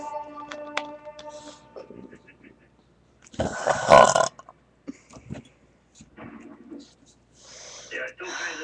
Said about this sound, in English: I'm going to drink Coca-Cola instead of Dr. Pepper so y'all can see the difference in my burp